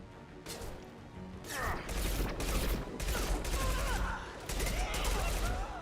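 Concussive shot and gunfire in the Mass Effect 2 video game: a loud, dense burst of rapid shots and crashing impacts over about six seconds, with brief game dialogue over the top.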